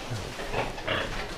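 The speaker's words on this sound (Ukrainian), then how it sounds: "свинки і кабанчики" Pigs, piglets and sows, grunt close by in a few short, rough bursts over a low farmyard rumble.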